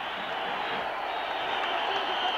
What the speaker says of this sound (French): regardez ce public qui applaudit l'arrêt de Thierry Goré